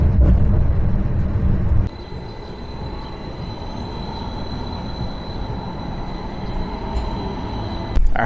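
The Milwaukee Hop streetcar runs on rails with a steady low rumble and rolling wheel noise, a sharp jolt near the start and another bump at the end, heard from inside the car with no talking.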